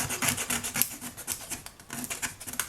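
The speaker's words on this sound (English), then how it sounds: "I'm going to take the back of my Olfa knife and just sort of scrape here" The back of an Olfa knife scrapes along the spine of an old book, giving a quick series of close, dry, rasping strokes.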